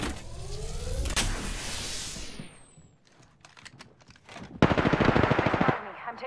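Bursts of automatic gunfire in the video game Apex Legends, a sustained volley at first, then scattered shots and a loud dense burst near the end, with game sounds around them.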